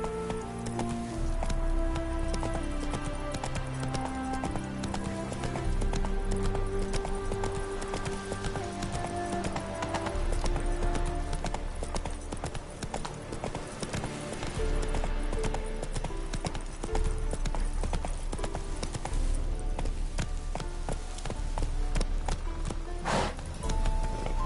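Roach the horse galloping in The Witcher 3, a steady rapid clip-clop of hooves running without a break over continuous background music.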